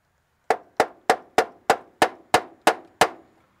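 Nine sharp metallic hammer strikes in a steady rhythm, each ringing briefly before the next, close and clear with no talk.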